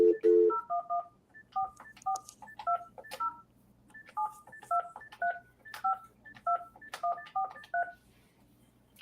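A touch-tone telephone dials an international number starting 011 and 44, producing a steady series of short, clear beeping tones in quick irregular bursts over a faint background hum.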